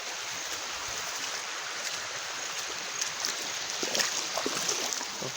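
Water flows in a stream beside rice paddy fields, a continuous broad rushing wash with faint splashy flickers, steady and fairly close, with no talking over it.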